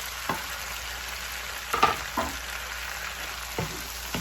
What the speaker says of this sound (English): we're just going to stir it up and let this cook so that the tomatoes are